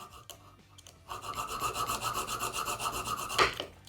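A file rasps across a sommelier knife in quick repeated strokes, a dry rhythmic scraping that starts after a few faint taps and holds steadily close up, ending with one louder scrape, with no voices.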